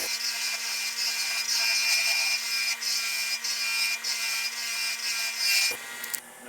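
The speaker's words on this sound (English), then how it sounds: "we're going to turn on our brass wire wheel, and we're going to clean up our hardened steel items" A bench-mounted brass wire wheel scrubs rust from hardened steel forged tools. It gives a continuous bright hissing whir over a low motor hum, with rhythmic surges as pieces are pressed in, then cuts off near the end.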